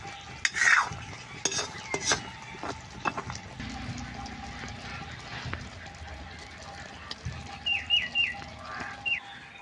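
Khurma, a crisp sweet snack, frying in a pan on a stove, a soft sizzle with stirring scrapes and a few knocks, faint and close, with brief voices and a bird chirp in the background.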